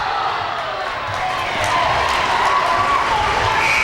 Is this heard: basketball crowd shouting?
yes